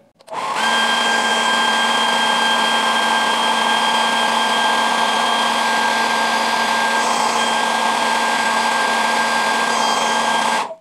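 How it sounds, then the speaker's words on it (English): A hair dryer blows heat onto a JBL GO Bluetooth speaker to soften the glue on its rubber ring, a loud, steady, close whirring drone with a constant tonal whine that runs unbroken for about ten seconds. "we have to give some heat using hair dryer or heat gun"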